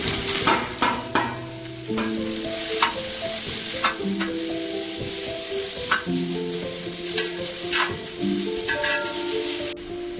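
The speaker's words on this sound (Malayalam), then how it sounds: "ഇനി ഇതിൻ്റെ അകത്തേക്ക് 3 മീഡിയം സവാള നൈസായിട്ട് അരിഞ്ഞത്" Three medium onions, finely sliced, sizzle in hot oil with cumin in a pan for tawa pulao, with a steady frying hiss and repeated close scraping stirs throughout.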